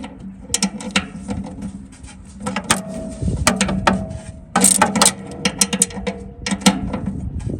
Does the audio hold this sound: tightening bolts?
yes